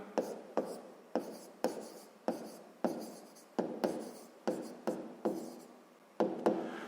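Pen on paper writing out the check of a sixth-grade math equation: about a dozen quick, crisp strokes in an uneven rhythm, close and clear with no talking.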